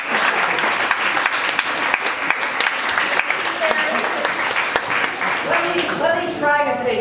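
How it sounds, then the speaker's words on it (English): A lecture audience breaks into applause after a mental math demonstration, loud dense clapping spread across the whole room, sustained evenly and then beginning to thin toward the end as a few voices come through. "Give them a round of applause."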